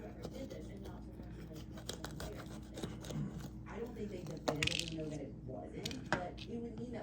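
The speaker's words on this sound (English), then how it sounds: "We're gonna cut the stem out and take the seeds out." A knife cuts the stem and seeds out of a poblano pepper on a board, with soft slicing, scraping and squishy crunches under steady talking nearby.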